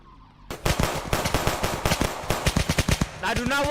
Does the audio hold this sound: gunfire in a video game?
yes